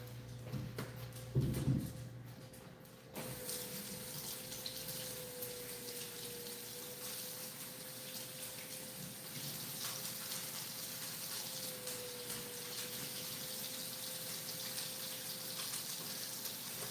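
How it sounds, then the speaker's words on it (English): Water runs steadily from a kitchen tap into a sink as items are rinsed, a constant hiss lasting well over ten seconds after a brief clatter near the start. "Let me wash these off."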